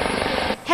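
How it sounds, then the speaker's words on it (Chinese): A search helicopter circles back and forth over the sea, its rotor producing a steady throbbing chop at moderate loudness that fades briefly near the end. "也出动直升机不断在海面上来回盘旋"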